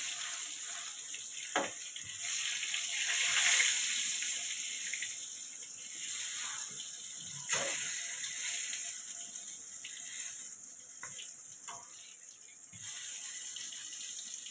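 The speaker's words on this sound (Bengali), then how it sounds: "ওই তেলে বেগুন ভালো করে ভেজে নেব।" Brinjal pieces fry in a pan of oil with a continuous crackling sizzle, swelling and easing now and then, plus a few soft clatters, all without speech.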